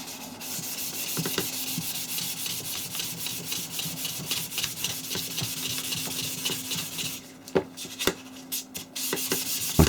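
Wet and dry sandpaper rubbing over a cast metal knife blade, a steady continuous scratchy sanding stroke close up, with a few sharp knocks and brief pauses near the end.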